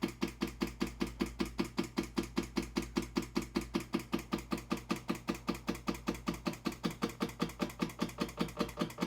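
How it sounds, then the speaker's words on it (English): Electric fuel pump on a 1967 Ferrari 275 GTB/4 priming the carburettor float bowls, a rapid, perfectly regular ticking of about five clicks per second over a low steady hum, faint and close. "Give our electric pump a prime to get the float bowls full."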